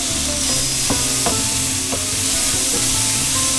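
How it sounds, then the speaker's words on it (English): Diced onion sweats in a hot pan with a pinch of salt for a venison or beef stroganoff. A loud, close, constant sizzle is broken by a few sharp knocks of a utensil stirring against the pan. "Sweat those down for a few minutes until they start to get translucent."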